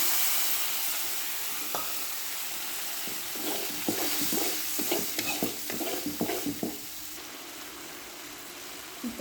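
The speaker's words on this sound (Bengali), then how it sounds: "এখন এটা মিক্স করে দিব।" Chicken for a roast sizzles in the pan as a yogurt mixture made with lemon juice and milk powder is stirred in. Repeated scraping and squelching stirs sit over a steady frying hiss, close by, with no talking.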